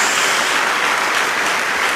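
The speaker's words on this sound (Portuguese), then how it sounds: "Dê uma salva de palmas a Jesus" Church congregation clapping in a steady, dense burst of applause that fills the whole two seconds at a loud, even level, with no talking over it.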